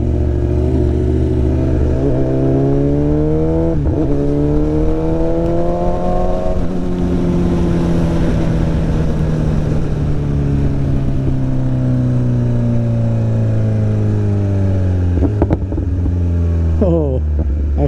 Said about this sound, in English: this exhaust is super loud